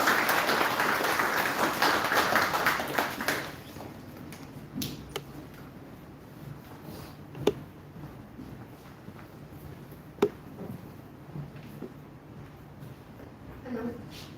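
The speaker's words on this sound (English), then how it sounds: "Round of applause, everyone." Audience applause at the YUGMA 2025 event, a broad wash of clapping for the first few seconds that fades into a quiet hall with scattered knocks and shuffles.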